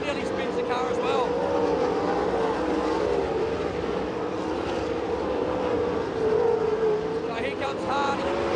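Sprint car engines roaring around Perth Motorplex during a feature race, a sustained loud drone with rising and falling pitch as cars pass, and a commentator talking over it.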